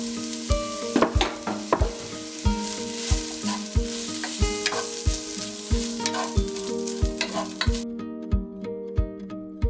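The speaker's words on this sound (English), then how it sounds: "Now add the cooked rice and saute for about 1 minute." Cooked rice sautéing in a soup pot for a roasted carrot and pumpkin soup, with a steady sizzle and repeated spoon scrapes and stirring knocks in a regular rhythm, close and fairly loud, fading near the end.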